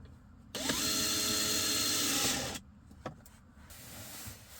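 A power drill drives a miniature screw during a camper kitchen build with drawer slides: one close, two-second whirring run that ends abruptly, followed by a sharp click and quiet handling noises.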